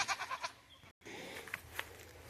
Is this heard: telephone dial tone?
no